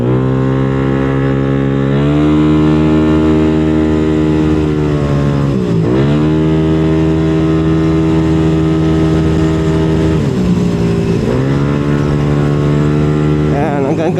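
Motorcycle engine running on the road during a breakdown-prone ride, a loud, tonal drone that dips and rises in pitch a few times as throttle changes, steady and close throughout.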